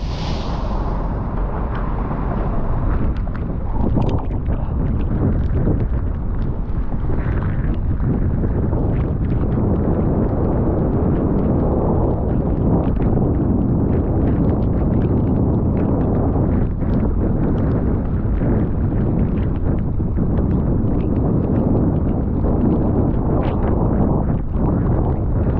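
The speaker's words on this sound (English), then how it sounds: "The engine's slowly going forward." A sailboat's engine runs steadily while the single-handed boat creeps forward, a continuous rumble heavily buffeted by wind noise on the microphone for the whole stretch, with no talking.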